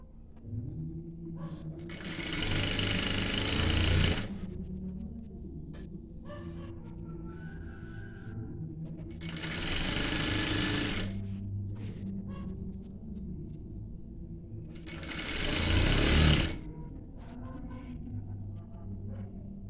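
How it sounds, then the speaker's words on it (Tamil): A sewing machine stitches a petticoat (inskirt) in three long runs of steady whirring, each a few seconds, with quieter low mechanical hum and handling sounds between them; no talking. "நான் ஃபுல்லாகவே தைச்சிட்டு உங்களுக்கு காட்டுறேன்."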